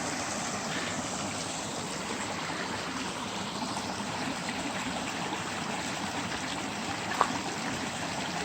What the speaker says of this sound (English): it's a nice, beautiful little creek